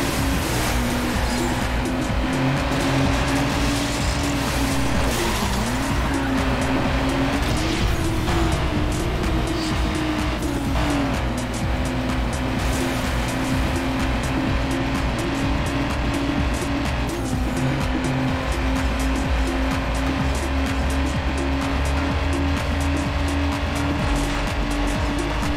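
In the Need for Speed: Underground racing game, a boxy car drifts around the track with a loud, sustained engine drone and long stretches of squealing tires, the pitch wavering as the car slides through the turns, and no voices.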